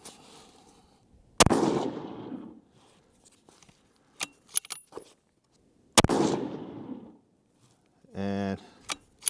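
Two loud, sharp 6.5 PRC benchrest rifle shots several seconds apart at an outdoor range, each with a rolling echo, along with handling clicks and a brief buzzing tone.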